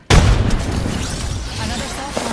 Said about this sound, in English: Grenade deployed.